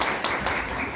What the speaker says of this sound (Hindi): एक ताली जरूर बजा दीजिए सर के लिए